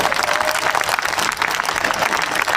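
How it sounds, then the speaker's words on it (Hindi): An audience at a public meeting with the Chief Minister in Mehrauli breaks into steady, dense applause, a continuous patter of many hands held at even loudness throughout. "तालियां तो ठीक बजा दो"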